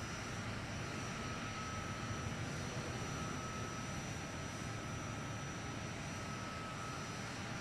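A video game aircraft taxis down a runway, its engine a steady, even drone that holds without change, no voices.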